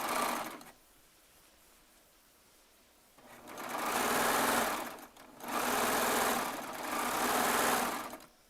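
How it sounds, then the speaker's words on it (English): A Baby Lock Triumph serger stitches through fabric in three loud, fast, whirring bursts with short pauses between them, close up and alone, after a quiet lead-in. "we're just going to start up here at our nice straight edge and sew it down."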